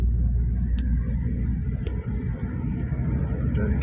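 A 2016 Toyota Avanza engine with Blackcore tuning accelerates in fifth gear from low revs, a loud, steady rumbling drone heard from inside the car.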